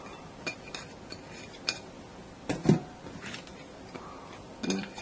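Carrot, celery, apple and nuts being mixed in a bowl for zucchini rolls: intermittent scrapes and light clinks of a utensil against the bowl, quiet and close, with no talking.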